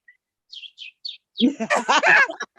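A person imitates a bird with several short, high chirps. Louder laughter and talking follow close by.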